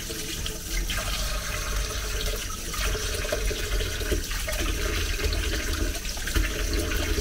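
Tap water runs steadily into a sink as a child's mouth is washed, a continuous splashing rush for several seconds with no talking.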